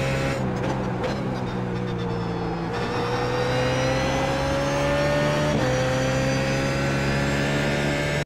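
BMW Z4 GT3 race car engine in a racing video game at Brands Hatch, revving hard and continuous with rising pitch through the gears and a couple of quick shifts, loud and close throughout.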